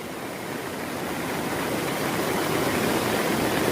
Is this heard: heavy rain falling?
yes